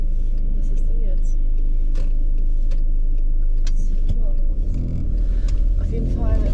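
A car drives along with a steady low engine rumble and road noise heard from inside, continuous and fairly loud, while a person talks intermittently over it.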